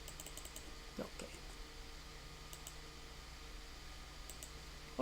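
Quiet clicking of keys on a computer keyboard, light irregular taps spread across several seconds with a slightly louder keystroke near the end, close but faint.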